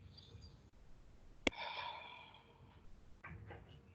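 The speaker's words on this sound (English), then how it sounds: "Take a deep breath, exhale." A soft, quiet exhale of breath during a hatha yoga practice, a gentle airy release after a brief click, alone with no talking.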